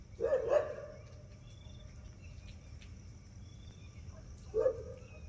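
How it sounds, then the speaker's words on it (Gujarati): A dog barks twice, a few seconds apart, somewhat distant, over a steady chorus of crickets on a quiet night near a lake. "અત્યારે કૂતરા ખાલી ભસે છે બહુ"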